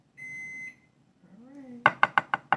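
A home oven sounds its preheat-ready signal while a Hawaiian butter mochi cake is being made: a quick run of five sharp, loud electronic beeps, evenly spaced and close by, heard after a short stretch of speech.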